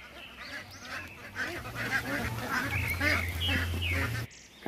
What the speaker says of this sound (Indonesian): Wih, ada bebek.